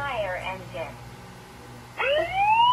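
A toy ambulance siren gives a short wailing warble. After a pause, a second bright tone sweeps steadily upward, heard clearly and up close.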